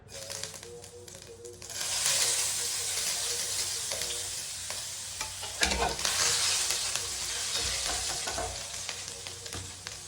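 Ginger frying in hot oil for a simple cauliflower curry, a close, loud, steady sizzle that swells after a quiet opening, with occasional stirring scrapes and crackles.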